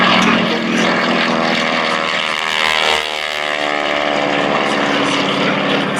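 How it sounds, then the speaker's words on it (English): T-6 Texan, a World War II primary trainer, flying at an air show: a loud, steady propeller-engine drone that holds throughout, swelling slightly near the middle, with no talk over it. "The T6 Texan. This is also a primary trainer aircraft for the Second World War."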